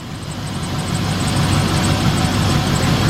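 A 2007 Chevrolet Express 3500 van engine runs steadily after a sticky-lifter repair, a smooth, loud low rumble and idle hum with a faint high whine above it, no ticking evident, close to the engine.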